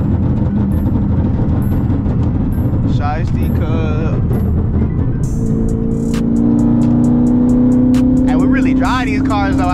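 A car in track mode accelerates hard along a busy highway in heavy traffic, its engine drone loud and steady, rising in pitch as it pulls, with brief voices heard over the cabin noise.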